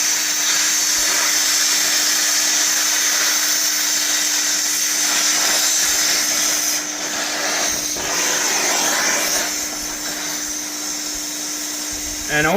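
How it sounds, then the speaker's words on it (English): A cutting torch running on a giant hydraulic wood splitter, a steady loud hissing roar with a constant tone underneath, continuous throughout with occasional clunks and faint voices in the background. "It's operating a torch."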